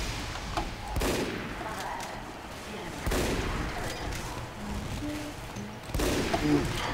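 Bursts of minigun fire in the video game Team Fortress 2, rattling in several rapid volleys with explosions mixed in over busy game noise.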